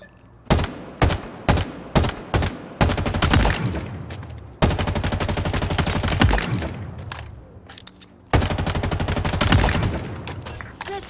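Weapons fire on a firing range in the Halo video game: a string of sharp single shots, then long sustained bursts of rapid automatic fire with brief pauses, loud and close.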